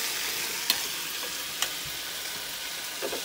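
Potatoes frying for aloo bhujiya give a steady, faint sizzle, with a few light scrapes of a stirring spoon against the pan breaking through.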